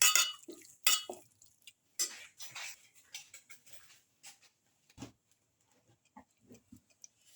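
A spoon stirs a pepper garlic chicken potato stew in a pot, giving scattered soft clinks and scrapes, louder at first and thinning to faint, sparse taps.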